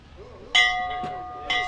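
A bell rings at a high school graduation ceremony, struck twice with bright sustained tones that ring on between hits, close and clear over faint background murmur.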